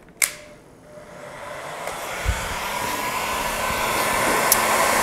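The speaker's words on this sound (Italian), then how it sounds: "Phon termico, se non ce l'avete un phon normale per capelli ma caldo caldo caldo" A heat gun clicks on and its blowing hot air rises into a steady, loud whooshing hiss that keeps building, with a couple of faint clicks and no talking.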